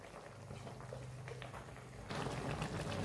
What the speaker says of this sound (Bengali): এবার মিনিট 10 এটা ফুটতে থাকে, একটু শক্ত হোক।